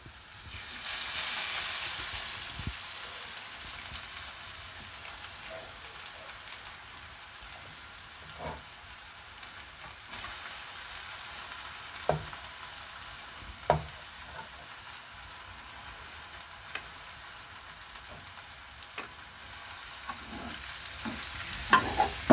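Noodles stir-fry in a hot pan, a steady sizzle with occasional scraping and tapping of a utensil, fairly close and continuous with no talk.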